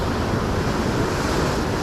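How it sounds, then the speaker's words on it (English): Steady roar of ocean surf breaking onto the rocky shore at Acadia in Maine, a dense continuous wash with wind buffeting the microphone, loud and close with no voices. "Yeah, maybe the tide is coming up, or maybe the waves are just bigger."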